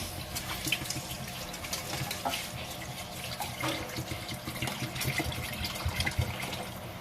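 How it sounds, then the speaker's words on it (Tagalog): Water pours steadily into a pot of cooked rice for several seconds, a continuous splashing flow with no voices. "lagyan natin ng tubig guys"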